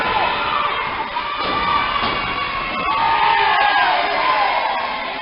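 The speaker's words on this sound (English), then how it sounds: "And you hear the chants of Gator." A wrestling crowd at a DWA Wrestling event chants and cheers for Gator, a loud, continuous wall of shouting voices filling an indoor arena.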